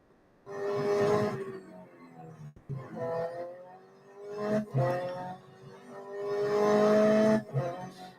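A rally car engine in the racing game Real Racing 3 revs and climbs through gears in rising, swelling waves, with brief drops between shifts and a continuous loud mechanical whine, no talking.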